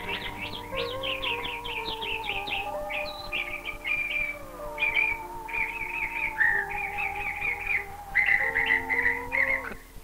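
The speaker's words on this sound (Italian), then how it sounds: "I grandi alberi sono popolati da migliaia di uccelli, in un continuo concerto di suoni diversi" Many birds call from large trees in Somalia, a dense mix of bright chirps and whistled phrases repeating close by in quick runs over a faint steady background tone, with no talking.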